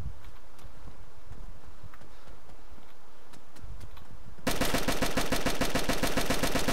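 Gunfire in the DayZ video game during a shootout in Cherno: quiet ambience with scattered faint pops, then a sudden loud sustained automatic burst of rapid, evenly spaced shots for the last couple of seconds.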